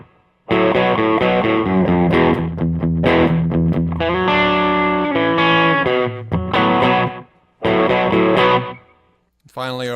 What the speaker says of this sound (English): rhythm slapback sound